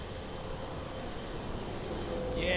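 A distant aircraft engine drones steadily as a plane approaches the runway at Lisbon Airport, swelling slightly louder toward the end.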